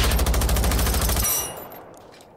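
Rapid automatic gunfire in Generation Zero, a fast loud burst of evenly spaced shots lasting over a second before cutting off into a short fading echo.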